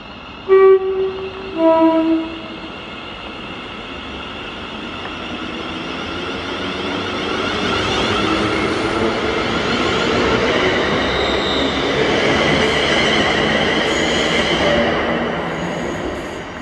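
A ScotRail class 380 train at Paisley Gilmour Street gives two short horn blasts, then rumbles past with steady wheel and rail noise that swells and lingers, loud and close throughout.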